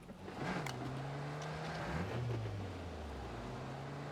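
A car engine in the PUBG battle royale game hums low and steady, its pitch dipping and rising as the vehicle moves off, quiet and alone.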